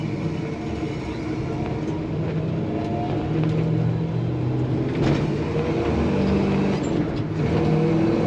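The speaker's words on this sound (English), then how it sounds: "Starts and idles perfectly right away." A 1966 Chevrolet C10 Stepside street rod engine runs steadily with a low rumbling drone, rising slightly in revs midway, close and continuous with no talking.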